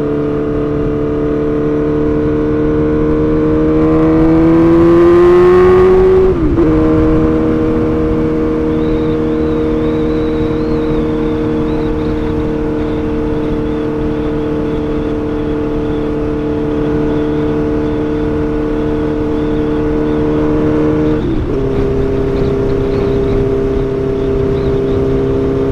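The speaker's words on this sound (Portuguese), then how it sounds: "Essa ponteira com esse coletor Fuse aqui faz muito barulho, galera." A Suzuki Bandit 1250 motorcycle fitted with a Fuse header and aftermarket exhaust tip drones loudly while riding. Its engine pitch climbs during a rev, drops sharply at a gear change and holds steady before shifting again.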